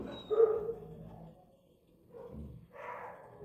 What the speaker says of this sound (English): I'm trying to mute some of the dog barking.